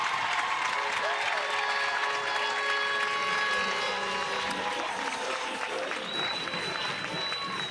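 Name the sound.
softball crowd applauding Texas pitching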